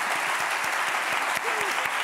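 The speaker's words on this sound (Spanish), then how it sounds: "Un aplauso para la Guardia Civil." A television studio audience applauds steadily and fairly loudly, a dense wash of clapping that keeps going without a break.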